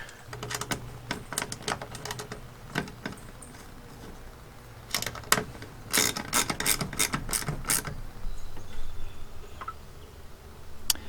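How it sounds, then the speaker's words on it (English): An 8mm socket on a ratchet tightens bolts on a Toyota Tacoma power tray, giving bursts of quick close clicking with short pauses between runs. "I'm going to go tighten these up, and we'll move on to the next step. 8mm socket, regular screwdriver."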